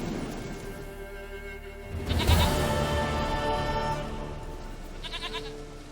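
Goat bleating in The Witcher 3 video game, a loud, quavering bleat near the middle followed by a shorter, fainter bleat near the end, set against ambient game sound.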